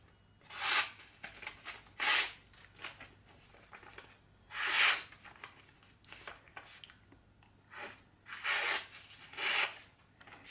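A WE Knife Nexusia folding knife slices through paper in several separate short rasping strokes, each a crisp scraping swish with brief quiet gaps between cuts, heard close and alone.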